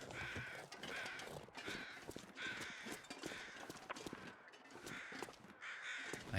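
In a survival video game, several rounds of distant crow caws recur through a constant bed of wind and background noise, with no voices.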